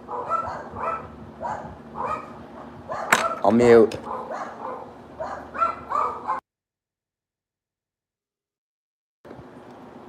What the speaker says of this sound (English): Sorry, my neighbor's dogs are barking.